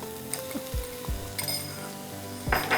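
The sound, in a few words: red capsicum added to pan and sautéed with onions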